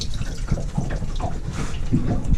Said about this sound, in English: After it popped off, water started flowing